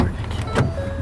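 Power window motor whirring on a Ford F-150 pickup, a short close electric hum heard inside the cab with faint voice underneath.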